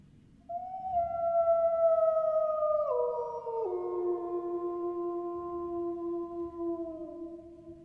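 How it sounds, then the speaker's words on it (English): Recorded wolf howls used in Paul Halley's jazz-inspired Missa Gaia: long sustained howls that step downward in pitch, several overlapping voices, clear and prominent over a faint low background. "interpreted recordings of wolf howls and whale songs in his jazz-inspired Missa Gaia"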